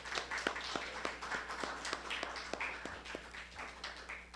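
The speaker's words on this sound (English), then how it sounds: "Let's give him another round of applause" Applause from a church congregation at a Sunday service in central London, a steady run of sharp claps from a modest group, fairly close, with faint voices underneath.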